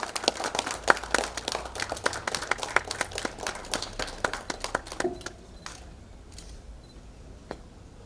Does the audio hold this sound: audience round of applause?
yes